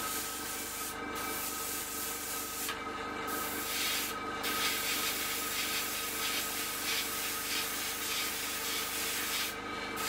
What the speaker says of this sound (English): that's actually spraying quite thickly